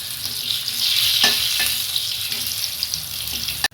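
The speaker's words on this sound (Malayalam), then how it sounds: "അപ്പോൾ ഇതൊന്ന് നമുക്ക് വറുത്ത് പോരാം" Oil sizzles and crackles steadily as green chillies fry up close, with a couple of light stirring knocks and a sharp click at the end.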